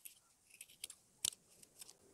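Scissors snipping the 0.3 cm seam allowance of a quilted coat after sewing, a few quiet, separate cuts with one sharper snip in the middle, close and faint with no talking.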